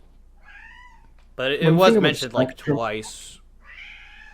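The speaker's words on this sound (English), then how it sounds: "I do apologize for my cat in the background for some reason." A pet cat meows in the background, with drawn-out meows before and after a man's speech, fairly clear but quieter than the voice.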